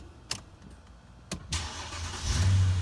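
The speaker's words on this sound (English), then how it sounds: "I'm going to start the car." A 2007 Mercedes S-550 engine cranks and fires up after a few faint clicks, then settles into a steady, close idle that grows slightly louder at the end, with no voices.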